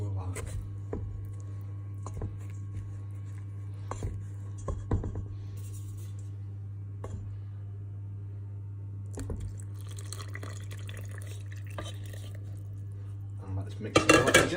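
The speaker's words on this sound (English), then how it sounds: "we need to stir in the egg mixture into the flour mixture until just moistened, so just nice and gently" A spoon stirs egg mixture into flour mixture in a bowl for rhubarb orange muffins, making light, regular clinks against the bowl over a low steady hum, with a louder clatter at the end.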